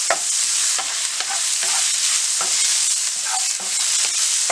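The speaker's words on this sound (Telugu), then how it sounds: "ఇలా 3 పచ్చిమిర్చి ఇలా కట్ చేసుకొని వేసుకోవాలి. వేసుకొని ఫ్రై చేసుకోవాలి." Cut green chillies fry with turmeric in a hot pan for egg burji, a steady close sizzle broken by repeated scraping stirs at an uneven rhythm.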